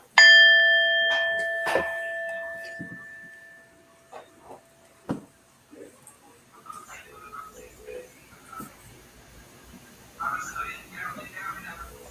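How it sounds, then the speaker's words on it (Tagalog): A bell is struck once and rings out clearly with a long, bright, slowly fading tone, followed by faint taps and soft indoor speech in a quiet room. "let me hit my bell"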